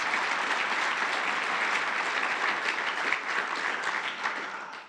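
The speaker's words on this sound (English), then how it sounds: "Give them a round of applause." Dense, steady applause from an audience at a political speaking event in South Africa, loud and continuous throughout before tapering slightly at the end, with no voices over it.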